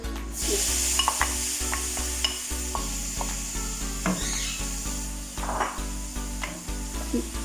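Minced meat for aloo qeema hits a hot pan and sizzles loudly while a spoon stirs and scrapes it, with irregular knocks and clatters over a steady frying hiss.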